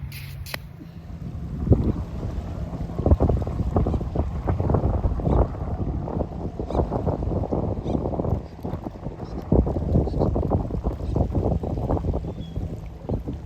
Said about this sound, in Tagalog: Diba ang gandang hangin?